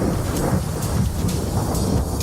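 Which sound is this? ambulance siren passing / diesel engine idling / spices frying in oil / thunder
thunder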